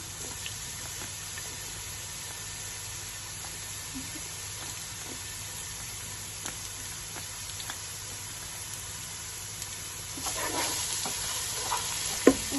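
Onion and garlic fry in a pan for mattar pulao, giving a steady, even sizzle with occasional soft stirring scrapes near the end, and no voices over it.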